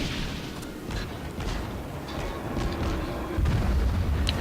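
Naval artillery from the American cruiser USS Phoenix in World of Warships booms in repeated heavy salvos, a rumbling barrage that swells louder toward the end, with no talking.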